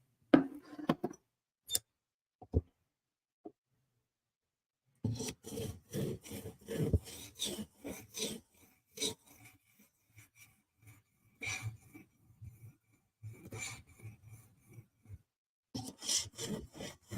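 Recurve knife blade being sharpened on a sharpening stone, with repeated scraping strokes in short bursts separated by pauses, close and fairly quiet.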